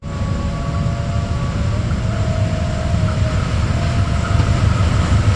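A toy train runs with a loud, continuous rumbling mechanical drone, carrying a faint steady whine, close to the microphone and unchanging throughout, with no voices.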